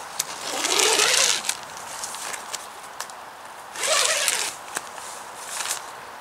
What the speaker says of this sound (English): Under here, you've got a zip